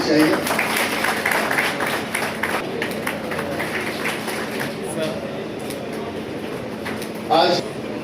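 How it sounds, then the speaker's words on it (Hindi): A crowd at a college foundation day celebration applauds continuously in a dense, roaring wash of clapping, with a voice speaking over it throughout. "तालियां रुकनी नहीं चाहिए।"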